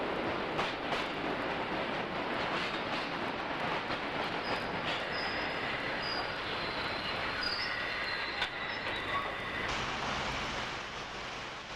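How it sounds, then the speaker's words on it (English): A Euston-bound London Underground Bakerloo line train approaches Kenton station, a steady loud rumble of wheels on rail with intermittent high squeals and clicks building over about twelve seconds, with no voices. "The morning sun catches this Euston-bound train approaching Kenton."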